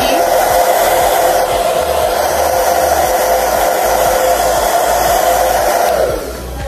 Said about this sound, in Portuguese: pegar o secador um pouco e pronto